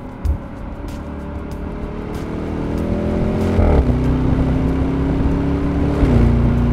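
A Bentley Bentayga V8 SUV accelerates hard at full throttle, its engine note climbing steadily and loud, with two distinct upshifts from the automatic gearbox dropping the pitch before it rises again.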